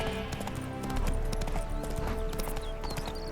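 In The Witcher 3, a spooked horse's hooves clip-clop in a quick rhythm, close and loud, then a short whinny breaks out over the game's ambient sound and music.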